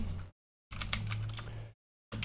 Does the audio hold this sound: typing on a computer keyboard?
yes